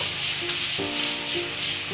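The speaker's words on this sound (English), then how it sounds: "We're about to saute some vegetables." Vegetables sauté with herbs in a hot pan, giving a steady bright sizzle that continues throughout with faint tonal sounds underneath and no talking.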